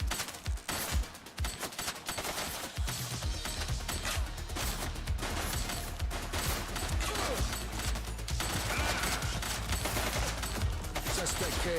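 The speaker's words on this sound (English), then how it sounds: "He's shooting!" Sustained automatic weapons fire in the police game The Precinct, dense bursts and rattling volleys running nearly continuously and loud throughout, with occasional voices mixed underneath.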